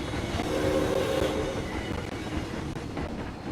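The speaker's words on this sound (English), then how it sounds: "We're heading up a hill now, so the train does slow down." A roller coaster train in the video game Planet Coaster climbs a hill, a steady rumbling rail clatter with faint clicking that runs on continuously at moderate loudness, with no voices.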